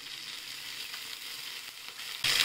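Curry leaves and green chilies drop into hot tempering oil already holding mustard and cumin seeds, making a steady moderate sizzle that flares into a loud spattering burst right at the end. No one speaks.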